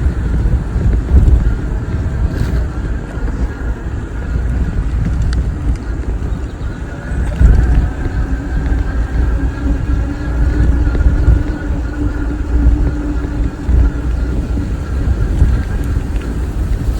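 Strong wind buffets the microphone outdoors during an e-bike ride, a loud, continuous low rumble with gusty surges that masks other sounds throughout.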